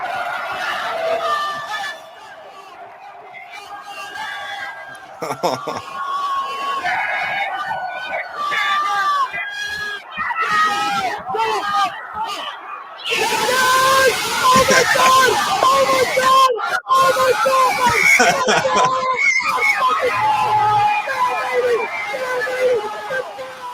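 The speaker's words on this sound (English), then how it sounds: "going to be a lot of screaming, a lot of loud" Packers fans screaming and shouting inside Lambeau Field, a loud, dense crowd roar that surges and grows more intense midway, mixed with excited voices nearby.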